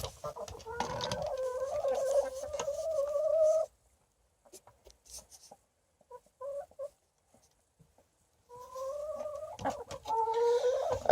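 Chickens clucking and squawking nervously at close range, loud bursts at the start and end with a quiet stretch of scattered soft clucks between, no talk.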